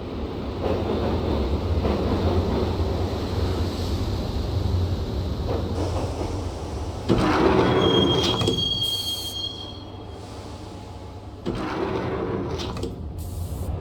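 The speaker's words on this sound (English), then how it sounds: "the train doors had already shut behind me, and I was in for the ride" A subway train ride in the Max Payne video game: a continuous rumble of rail wheels with screeching squeals of the wheels and metallic clanks as the carriage rolls on.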